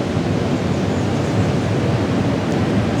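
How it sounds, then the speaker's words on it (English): Ocean waves crash on a beach in Panama, a dense, steady surf roar filling the air without break or voices. "you can hear the waves crashing not too far away here"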